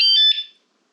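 Battery-powered motorcycle anti-theft alarm gives one short, loud electronic chirp of piercing tones. It fades out within about half a second and is followed by silence.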